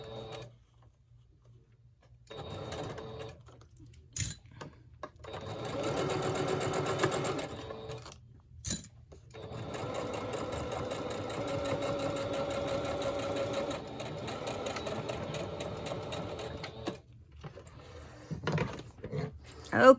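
A sewing machine needle stitches through soft old paper in long, rapid, even runs of mechanical chatter, broken by pauses and a few clicks, while a person talks nearby.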